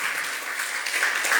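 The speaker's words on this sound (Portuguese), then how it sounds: "Vamos aplaudir o nome do Senhor Jesus." Church congregation applauds during a sermon, a brief burst of continuous, fairly loud clapping from many hands with no voices over it.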